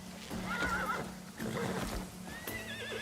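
A wild horse in the video game Crimson Desert neighs in several high, wavering whinnies over a steady low hum and hoof clatter, fairly close and loud with no talking.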